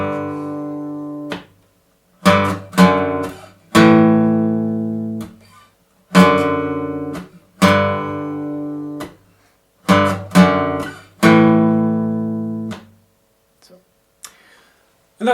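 Electric guitar chugging power chords and minor sixths in short rhythmic bursts, each strummed chord ringing briefly before being cut off, with short gaps between phrases, played alone and close.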